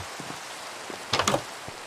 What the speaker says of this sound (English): Why are we raining again?